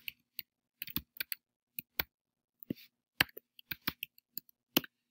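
Keys clack on a computer keyboard in a quiet room, with sparse, irregular taps and short bursts of quick keystrokes, close and fairly soft.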